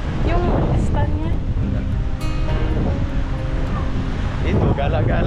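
Strong wind blows outdoors in the Philippine countryside, a loud, rumbling gust noise buffeting the microphone, while people talk over it throughout.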